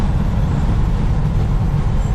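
Steady low road rumble inside the cab of a 2019 Peterbilt 389 semi truck cruising on the highway, a constant dense drone with no talk.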